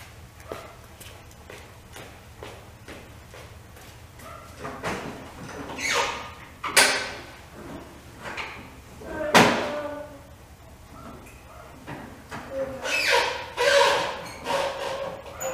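A door being wrestled open to get a go-kart out: a run of heavy thumps, rattles and sliding bangs, starting soft and building into several loud slams toward the end, with little talk.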